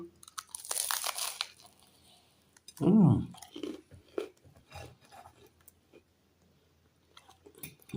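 Loud, close crunching and chewing during a meal, in uneven bites and bursts separated by short quiet gaps, with a brief burst of talk partway through.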